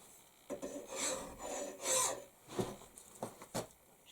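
A file rasps over a five-pound axe head in short, close strokes, about half a dozen uneven scrapes with brief pauses between, fairly quiet and with no talking.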